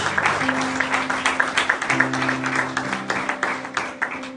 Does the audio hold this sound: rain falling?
no